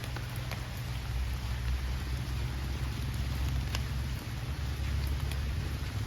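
Steady rain falls in a continuous hiss with occasional sharper drips, accompanied by a low steady rumble underneath.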